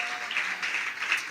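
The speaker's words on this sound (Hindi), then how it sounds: "जोरदार ताली बजाइए।" Audience applause at a live Hindi Christian prayer service, a steady wash of clapping running through the whole moment at moderate level, with no voices on top.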